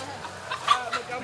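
Chicken clucking during a chicken-catching contest at a bikers' fair, a few short, moderately close clucks rising and falling amid faint crowd noise and possible background voices.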